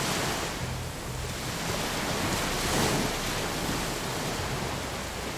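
Ocean surf in an Unreal Engine 4 game map rolls as a steady broadband wash with no talk, swelling slightly near the middle before settling back.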